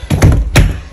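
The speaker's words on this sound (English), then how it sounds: "walk-in closet, close the door" A walk-in closet door in an apartment swings shut, giving two close, dull thunks about a third of a second apart, loud and alone with no voices.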